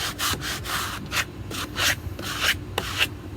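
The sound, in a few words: scraping paint off a cabinet door with a sharp tool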